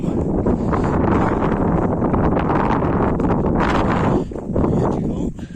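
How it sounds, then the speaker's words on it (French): Gusty wind buffets the microphone on a mountain hike toward the Pic de la Sagette, a dense, steady roar that dips briefly near the end, with no talking in the clip. "Il y a du vent."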